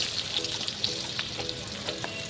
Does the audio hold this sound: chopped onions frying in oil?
yes